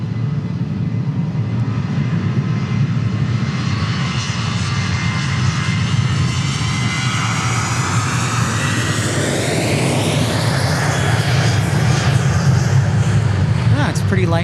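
A jet airliner roars steadily and loud near Dallas Love Field, its engine whine sweeping upward in pitch as it passes close by, with a person talking over the noise.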